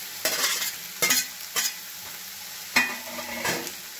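Jackfruit and pre-fried potatoes are stir-fried together in hot oil for a kathal curry: several sharp, close spatula scrapes at irregular intervals over a low, steady sizzle, with no talking.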